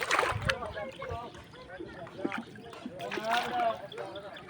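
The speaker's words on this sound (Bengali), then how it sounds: "নৌকাটা ঘুরিয়ে নেই বন্ধুরা।" A rowing boat glides across a flooded rural haor wetland during the rainy season, with soft water sloshing and lapping against the hull beneath ongoing voices.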